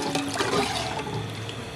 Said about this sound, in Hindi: 2 किलो पानी शामिल कर दिया, इसको थोड़ा उबाल आने देंगे।